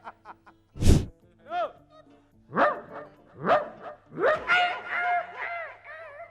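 A dog barks in a series of sharp, loud woofs with a few yelping, whining calls mixed in, close by and with no talk over them.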